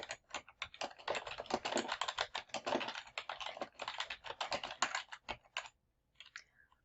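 Fast, continuous typing on a computer keyboard, close-up dense key clicks with brief pauses, then a few last taps after a short gap.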